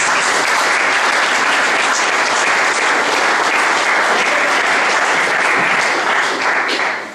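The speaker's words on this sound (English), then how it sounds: "Can you give them a round of applause?" Audience applause at a Northern Ireland Policing Board and Derry PCSP public meeting, a dense, steady round of clapping that stays loud and even for several seconds before tapering off at the end.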